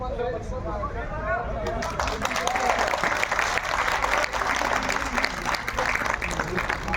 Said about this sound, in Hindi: आपकी जोरदार तालियों के बीच इस यादगारी